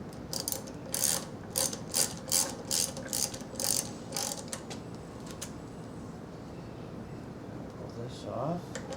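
Wrench ratcheting in quick bursts while removing a carburetor shroud during intake removal, a run of short clicking strokes close by over a steady low hum, then quieting toward the end.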